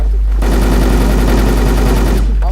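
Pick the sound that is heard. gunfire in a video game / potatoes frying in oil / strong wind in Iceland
gunfire in a video game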